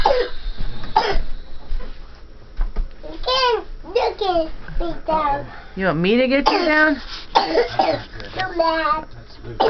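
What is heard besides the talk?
coughing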